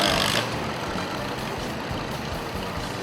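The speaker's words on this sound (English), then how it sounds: "Here's a 1952 Farm All H ready to try. He gives it a couple of revs, pops the clutch" A 1952 Farmall H tractor engine revs hard at an antique tractor pull at a county fair, a loud, rough, continuous roar that swells briefly at the start and then holds steady.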